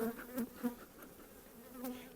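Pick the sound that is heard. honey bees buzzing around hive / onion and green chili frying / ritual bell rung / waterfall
honey bees buzzing around hive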